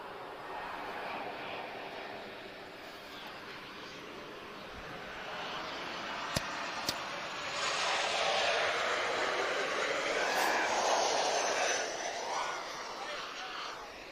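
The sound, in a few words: Ryanair Boeing 737 jet landing at Lisbon Airport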